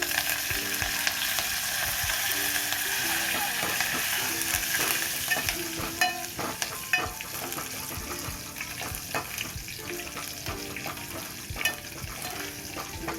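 Green chillies, garlic and curry leaves sizzle and crackle in hot oil as a tempering for dal, with brief pops and a clatter of stirring as the frying settles.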